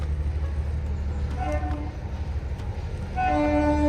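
A small narrow-gauge train on a hill line running toward Jogindernagar in the Bir–Dharamshala area passes with a steady low rumble, and its horn sounds in short, clear tonal toots midway and again near the end.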